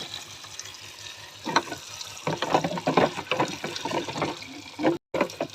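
Water running from a tap into a container of about 11 litres to sterilise beer brewing equipment in a motorhome, a steady splashing, gurgling stream that grows louder partway through, close and alone.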